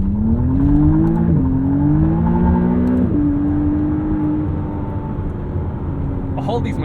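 2023 McLaren Artura hybrid sports car accelerating hard from inside the cabin, engine pitch climbing steadily through two quick gear shifts before a sustained loud drone, with a voice briefly at the end.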